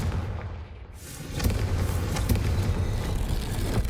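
A Confringo explosion spell bursting in the Hogwarts Legacy video game: after a quieter first second, a sudden broad boom erupts and rolls on as a sustained, noisy rumble with crackling bursts, close and loud, with no talking.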